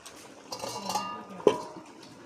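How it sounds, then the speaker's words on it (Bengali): A spicy lote fish curry is stirred in a pan, with faint metal clinks and scrapes from the spoon, a sharper knock near the end, quiet and close. "হালকা করে আমি এখন নেড়ে দেবো।"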